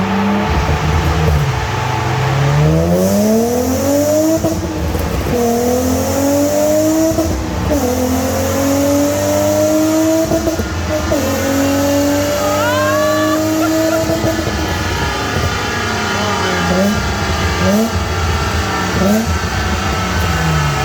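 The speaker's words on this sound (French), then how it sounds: "ce serait le 328 qui fait le plus beau bruit dans le secteur" Ferrari 328 V8 revving through a long run of rising and falling engine pitch sweeps, close and loud throughout, with repeated climbs as gears change and no talk over it.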